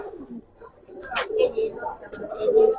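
Pigeons coo softly in a cage, a short low murmuring call rising over a background of people talking nearby.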